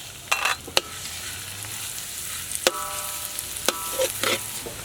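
Red onion, green onion and chopped garlic frying in a pan, a soft steady sizzle with a few sharp clinks and scrapes of stirring utensils in a countryside kitchen.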